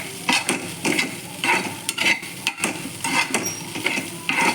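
Poha being tossed and stirred in a hot pan for chivda, with a steady sizzle and rhythmic scraping strokes of a spatula against the metal, repeating every half second or so, close and loud with no talking.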